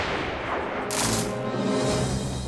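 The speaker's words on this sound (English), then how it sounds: "But I'm gonna start this with a gunshot" A single gunshot in South Park: The Stick of Truth, a loud burst that lingers briefly, with no talk over it.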